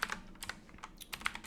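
Quick, irregular key clicks from a computer keyboard as a message is typed, a dozen or so light taps in small bursts, close and fairly quiet, with no voices.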